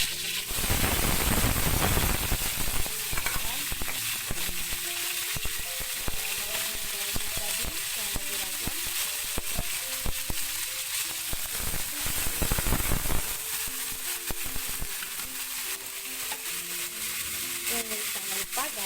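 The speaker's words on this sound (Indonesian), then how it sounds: "Ini dia, langsung kita tumis aja ya" Ground spice paste for Acehnese tuna gulai sautéing in a hot pan, a steady loud sizzle running continuously with occasional stirring scrapes and a brief surge near the start.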